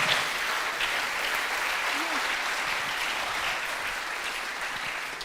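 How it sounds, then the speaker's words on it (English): An audience gives steady, even applause for university professors at an innovation labs demo day. The clapping is fairly quiet and continuous, with a brief vocal whoop near the middle. "So a large round of applause for all of them."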